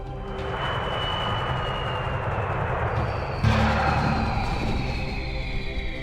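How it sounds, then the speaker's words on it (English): Military planes on an air mission in the strategy video game Rise of Nations make a steady, loud engine roar that swells with a sharper surge midway, heard alone without speech. "planes will fly directly to the target and attack"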